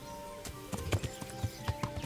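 Horse hooves clip-clop in an uneven rhythm at moderate volume over a faint musical background, in the video game Kingdom Come: Deliverance.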